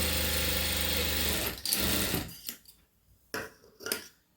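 A sewing machine stitching a dots-and-cross patti strip, running in a steady close whir for about a second and a half, then stopping, followed by a few short handling knocks and rustles.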